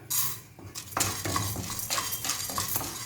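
Sambar dal lentils dry roasting in a pan for idli podi, dry grains rattling and scraping under a spoon or spatula in uneven strokes with light metallic clinks, close up and with no voices.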